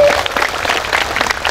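Crowd at an outdoor religious sermon in a packed field, clapping in a dense, lively burst of applause that stays loud throughout.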